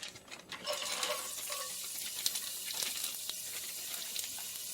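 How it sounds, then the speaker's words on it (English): Carrots going into hot oil in a pan for a stir-fry, producing a steady close sizzle and crackle after a few light clinks, moderately quiet and continuous. "Our oil is hot, so let's go ahead and add in our vegetables. So we've got our carrots going in."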